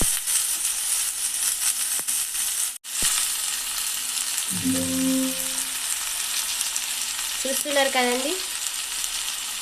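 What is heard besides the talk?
amaranth leaves frying and being stirred in oil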